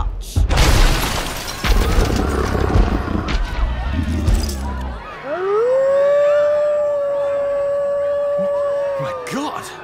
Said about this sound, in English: My God! Is that a wolf?